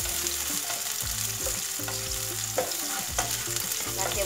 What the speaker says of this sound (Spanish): Vamos a sazonar la cebolla, el chilito y el ajo.